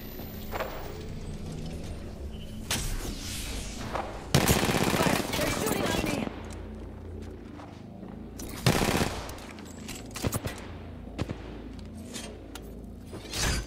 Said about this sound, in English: They're shooting on me.